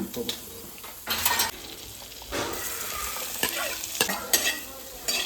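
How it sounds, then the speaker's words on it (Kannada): Vegetables fry in melted butter in a home kitchen pan, a steady sizzle broken by bursts of spoon-stirring and scraping against the metal, close and moderately loud. "ಒಂದು ಕ್ಯೂಬ್ ಹಾಕಿ ಇದರಲ್ಲಿ ವೆಜಿಟೇಬಲ್ಸ್ನ ಫ್ರೈ ಮಾಡ್ಕೋಬೇಕಾ?"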